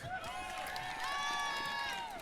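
Live crowd cheering and shouting, a sustained wash of many voices rising slightly in the middle, moderately loud and steady throughout.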